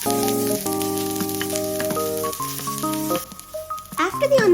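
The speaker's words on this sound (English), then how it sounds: "add the chopped onion to it" Chopped onion frying in oil with garlic in a pan, a sizzling hiss under prominent background music, with stirring sounds and a sharper crackle rising near the end.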